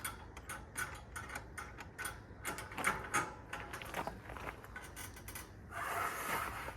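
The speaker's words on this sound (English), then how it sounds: "Loosen this up until she's ready to pop off." Turnbuckle on a Joe Hauler hitch-mounted bike carrier being loosened by hand, giving a run of close, irregular metallic clicks and ratcheting ticks, ending in a brief broader rustle.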